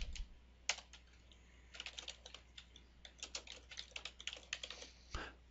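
Quiet computer keyboard typing of a workspace name in Excel, a close run of irregular light key clicks in short bursts, ending with a firmer keystroke.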